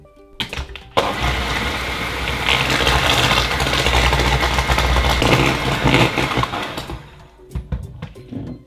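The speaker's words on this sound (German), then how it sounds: "Als erstes schlage ich Eier und Zucker zusammen auf." An electric mixer beats eggs with brown sugar in a home kitchen, a loud, steady motor whir that kicks in after a second and runs for about six seconds before cutting off.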